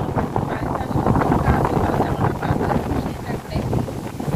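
Strong storm wind buffets the microphone in a loud, continuous roar, with rustling gusts that rise and fall and no clear talk.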